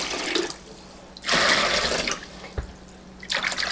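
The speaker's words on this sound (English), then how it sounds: "what I'm doing is adding some cooler water to the hot water I had on the cook stove" Cooler water pours into a pot of stove-heated water to make dishwater, a steady splashing stream that swells loudly in the middle and resurges near the end, with no talk.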